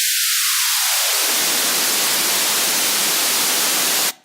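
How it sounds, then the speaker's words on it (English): Synthetic white noise hisses at full strength, with its lower range filling in over the first second and a half as it sweeps open, then holds steady as a broad static wash before cutting off abruptly at the end. "I started from just 5 seconds of a white noise"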